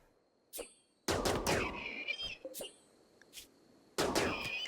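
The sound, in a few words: gunfire from colonists shooting in video game RimWorld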